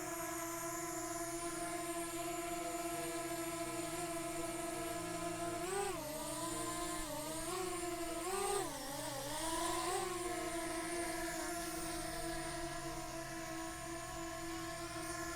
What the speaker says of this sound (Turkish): drone'umuzun şu anda rüzgarsız ortamda stabil duruşu bu şekilde